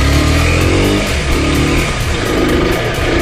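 Aprilia 125 RX motorcycle engine on a test ride, running loud and steady at close range with a sustained drone and slight rises in pitch, with no voices over it.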